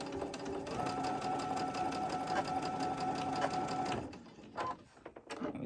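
Sewing machine stitching through quilt fabric, a continuous fast mechanical whir with steady needle pulses for about four seconds, then it stops and a few soft handling clicks and fabric rustles follow.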